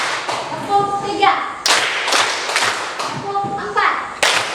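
Classroom children doing a rhythmic clap chant in an Indonesian school, sharp hand claps in short groups of three, repeated several times, close and loud, with children's voices between and under the claps.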